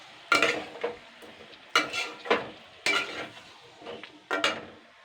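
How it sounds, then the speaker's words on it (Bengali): A spice masala with potatoes is sautéed in a pan, and a spoon scrapes and stirs it in about five separate strokes over a soft sizzle. Each stroke lands as a close, clattering scrape, with short pauses between them and no talking. "এবার আমি এইগুলোকে 3 মিনিট মতন কষিয়ে নেব।"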